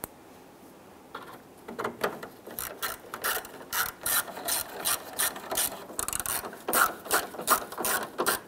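A ratchet drives screws across the top of the grille on a 1995-2001 Ford Explorer, producing rapid, close clicking strokes in irregular bursts that grow louder and more frequent, with no talk.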